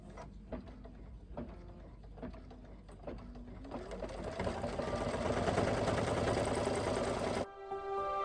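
A sewing machine stitching the last seam of a bunny silhouette project, first running in short separate bursts and then in a long, loud continuous whir before it stops abruptly.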